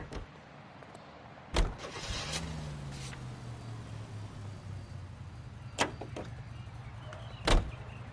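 Car door and engine in the 1940s Los Angeles crime video game L.A. Noire: a sharp door thud, a rising engine start that settles into a low idle hum, then two more door slams.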